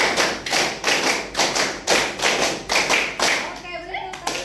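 A class claps out a rhythmic pattern together, short groups of sharp hand claps repeating evenly, close and loud, with a few voices and laughter rising at the end.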